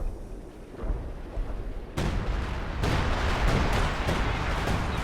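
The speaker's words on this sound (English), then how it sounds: "105mm artillery, which clears the demo but doesn't do much else" Artillery barrage from 105mm guns in the Company of Heroes 2 strategy game, with a dull boom, then a sharp loud blast followed by sustained rumbling impacts and crackling bursts.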